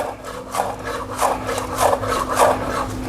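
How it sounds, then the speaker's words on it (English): A kitchen knife chops green onions on a cutting board in a quick series of rhythmic, close cuts, about one every half second, heard alone without talk. "when you're cutting these, please make sure you're using your whole blade"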